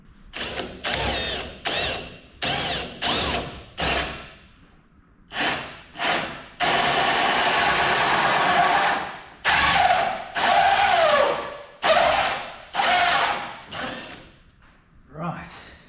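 A power drill bores holes into the hull of a home-built Dragonfly E 16 boat: a close, loud series of short whirring bursts with brief pauses between, plus one longer sustained run of drilling partway through.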